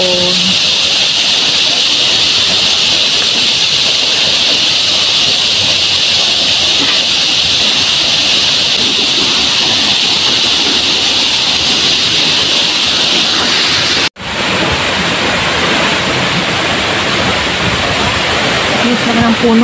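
Katibawasan waterfall on Camiguin roars as steady, dense rushing water throughout, loud and close, with a brief dropout partway through.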